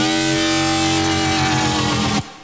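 A Serum synthesizer FM comb filter screech patch plays a loud, sustained, harmonically dense tone with a pulsing low end for about two seconds, then cuts off abruptly into near silence.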